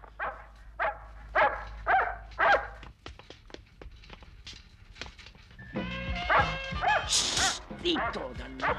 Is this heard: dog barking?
yes